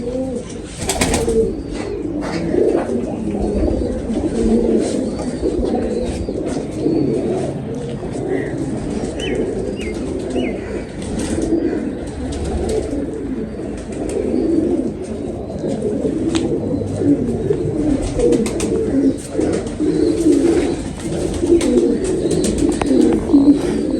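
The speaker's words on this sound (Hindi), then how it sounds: "जी ये कबूतर है" Domestic pigeons of a black breed coo repeatedly in soft, low murmurs, with a few chirps from other birds over a steady outdoor background.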